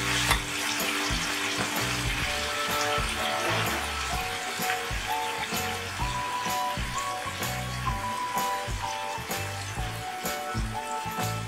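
Mango fish curry with potato and brinjal simmering and sizzling on a low flame, a steady close bubbling fry with faint occasional clinks running throughout.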